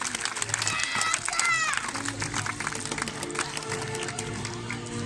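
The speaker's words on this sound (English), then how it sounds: "Another big round of applause for our sea lions." A zoo crowd claps for sea lions at a Blackpool Zoo show, moderate applause blended with children's chatter and crowd noise, with a brief whistle-like squeal early on, then settling into a lower murmur.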